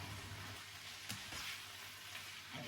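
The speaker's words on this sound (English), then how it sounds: "as that's just cooking and wilting in the pan" Greens cooking and wilting in a hot frying pan give a steady, quiet sizzle with soft stirring scrapes, low and continuous throughout.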